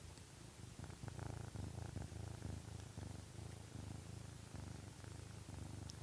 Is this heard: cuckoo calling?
no